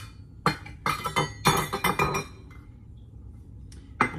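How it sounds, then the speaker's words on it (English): A spatula scraping and knocking shortening into a measuring cup, a run of clinking, scraping strokes in quick bursts, then a pause and one final knock. "I just usually use a spatula to get this out and then just shove it into the cup"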